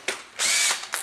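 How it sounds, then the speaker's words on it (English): Power drill with a 7/8-inch spade bit boring through wooden ceiling joists, two short close whirring bursts separated by a brief pause. "just have to drill through these three joists"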